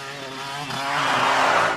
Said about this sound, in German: Oh, Motorrad da hinten